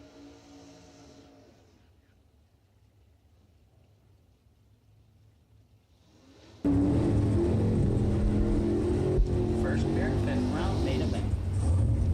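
Box door drag racing cars at a bracket racing event, a low rumble that abruptly jumps to a loud, sustained roar of revving engines partway through, with crowd ambience and talk underneath.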